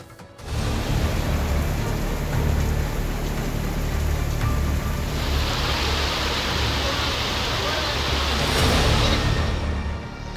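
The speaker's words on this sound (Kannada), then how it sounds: "ಬೆಂಗಳೂರಿನಲ್ಲಿ ಇವತ್ತು ಸುರಿದಂತಹ ಮಳೆ ಹಲವು ಕಡೆಯಲ್ಲಿ ಅನಾಹುತಗಳನ್ನು ಸೃಷ್ಟಿಸಿದೆ" Heavy pre-monsoon rain pours down in Bengaluru, Karnataka, a loud, steady, dense roar of falling water that continues without a break throughout.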